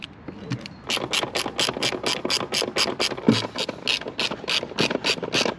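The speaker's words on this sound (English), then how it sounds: "The next step is to remove these two bolts that they hold the rider's seat, and you need size 10." A ratchet loosening size 10 rider's seat bolts on a Can-Am Spyder F3: close, brisk, evenly spaced clicking that runs steadily for several seconds, with no voices.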